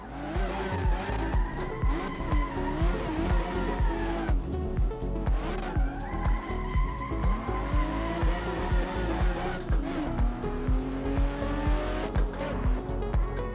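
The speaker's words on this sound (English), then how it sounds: "So I've just booted up a different map with a drift car so we can test out the handbrake, do some drifting." Drift car in a racing sim video game sliding under handbrake drifts, its tires squealing in long wavering screeches over a constant revving engine and rhythmic thumping, loud throughout.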